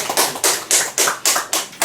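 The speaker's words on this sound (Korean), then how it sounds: "박수 한번 쳐드립시다." Group clapping in unison at an education presentation event, about seven loud, evenly spaced bursts of many hands striking together, close and with no talking.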